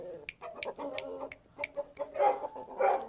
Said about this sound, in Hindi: ये जी 6 माह का हमारा जैपनीज शामू का पट्ठा तैयार हुआ है माशाल्लाह